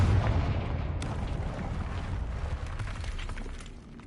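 An explosion from the Confringo spell in the video game Hogwarts Legacy bursts loudly at the start, followed by a rumbling, crackling blast that slowly fades over several seconds with no speech.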